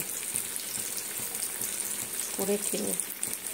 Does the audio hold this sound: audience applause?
no